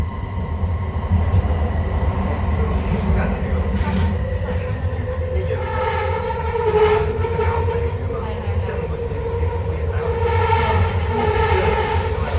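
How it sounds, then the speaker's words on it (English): A Metro Vancouver SkyTrain rolls steadily along its rails with a continuous low rumble and rising, whining motor tones, heard from inside the car for the whole stretch, loud and close. "let's change the train at Commercial Broadway and just head"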